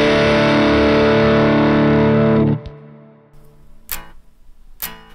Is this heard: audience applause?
no